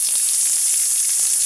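Chopped onion sizzling in hot oil with red chilies for a South Indian style okra sabzi, a steady loud frying hiss close up with no talk.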